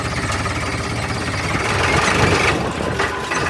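A rough, chugging tractor engine runs steadily at close range, a continuous mechanical rumble with a slight rise in the middle.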